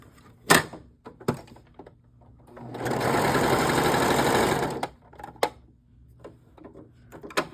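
A Brother 1034DX serger runs a thread chain in one steady whirring burst of about two seconds, close up, framed by scattered clicks and knocks of handling before and after.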